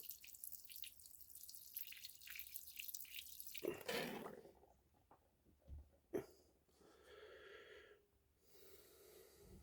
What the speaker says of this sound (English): Just filling their water bowl up.